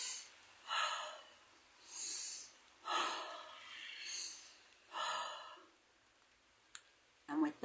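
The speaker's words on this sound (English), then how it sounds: "After that, we've got to breathe." Deep, audible breaths during a shamanic energy-healing session, a steady rhythm of about five slow inhale-exhale cycles close to the listener, each swelling and fading, with a brief click near the end.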